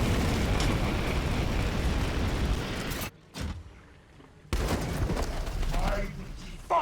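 Explosions and gunfire from the Warhammer 40,000: Chaos Gate - Daemonhunters video game, loud and dense for about three seconds, then a brief near-silence before another heavy burst of battle noise, with voices talking over it.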